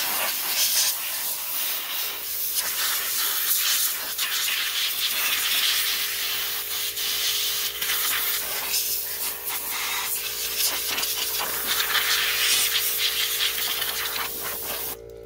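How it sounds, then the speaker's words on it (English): Water sprayed onto a hot lawn mower engine hisses loudly and steadily as steam rushes continuously, with a faint low hum underneath and no talking. "let me spray it off."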